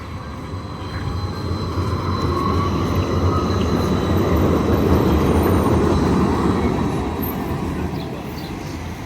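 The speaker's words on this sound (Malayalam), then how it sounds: "ട്രെയിൻ ക്രോസ് ചെയ്യുന്ന നോക്ക്." A train rolls past on railway tracks near a bus stand with a loud, continuous rumble and rattle of wheels. It swells toward the middle and stays close throughout, with no voices over it.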